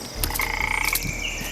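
A cartoon frog croaks in a steady, rapid rhythm with a sustained whistling tone over it. The croaking is loud and close, with no talking.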